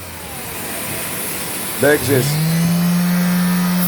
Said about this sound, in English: Now we use sanding machine